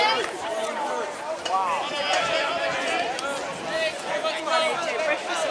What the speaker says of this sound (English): Very vocal crowd here in Fairfield.